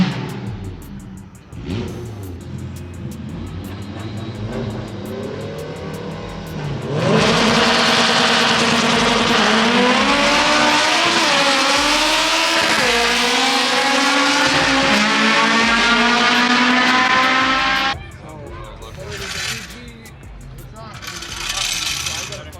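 A fully built Honda Civic Type R hatchback revs its engine, then launches at full throttle with a loud, sustained rising roar and gear changes for about ten seconds before it fades off. Voices and crowd noise are heard around it.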